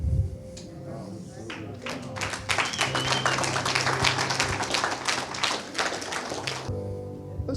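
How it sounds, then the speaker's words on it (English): A church congregation claps for a speaker at a Sunday service, a dense, steady wash of many hands that builds after a second and carries on for several seconds, close and fairly loud. "Let's stand and give Dave a hand clap of appreciation"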